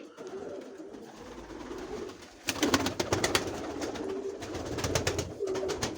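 Pigeons coo softly and repeatedly close by, a hen pigeon sitting on eggs, with flapping, rustling bursts of wings partway through and a low murmuring coo underneath.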